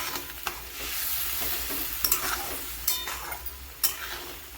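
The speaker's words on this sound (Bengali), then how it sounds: "ঝোল আমাদের ফুটছে।" Rohu fish curry with green mango simmering in a pot, a steady bubbling and sizzling hiss throughout with occasional stirring scrapes and faint clinks, close and moderately loud, with no talking.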